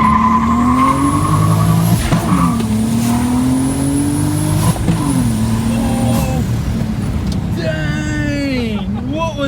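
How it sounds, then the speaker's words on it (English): Wrecked and rebuilt 2023 BMW M3 launching hard, engine revving up and down through gears with whining pitch sweeps, tire noise and a sharp hissing burst near the end; voices talk over it. "It sounded like a crazy blow off, or we like blew a line or something"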